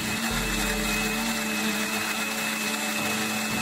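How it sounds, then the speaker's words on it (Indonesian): A blender grinding spices whirs steadily and loudly throughout, a continuous mechanical grinding hum with no speech. "Kita masukin bumbu ke blender, tambahkan sedikit lada bubuk putih."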